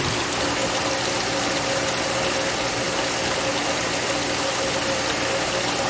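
A swimming pool pump runs at a pool opening while drawing in air, a loud, dense, steady churning rumble with gurgling texture and no pauses.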